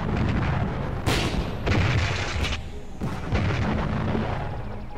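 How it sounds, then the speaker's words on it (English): Heavy artillery shelling and mortar fire in a wartime battle scene, with repeated deep booms and blasts over a dense, continuous roar of gunfire, loud and overwhelming. "they decided to batter the British into submission with constant shelling and mortar fire"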